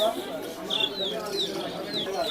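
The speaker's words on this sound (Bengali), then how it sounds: "আর এখানে কিছু বাচ্চা কবুতর আছে" Pigeons, including young ones, coo repeatedly at a bird and poultry market in Savar, Bangladesh, with soft rising calls recurring through a busy background; people talk nearby.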